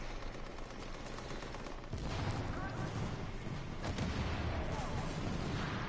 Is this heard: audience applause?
no